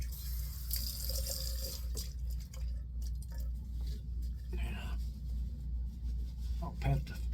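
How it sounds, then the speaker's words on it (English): Tap water runs steadily into a sink while alum is rinsed off a freshly shaved face. The water makes a constant close rush, with small splashes and drips throughout. "Let me wash the alum off."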